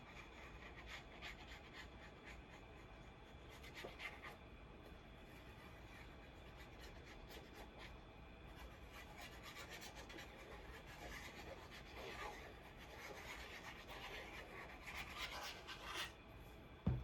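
Glued card being burnished down onto a paper page gives soft, quiet rubbing and rasping strokes in an irregular rhythm, close and faint, with no talk.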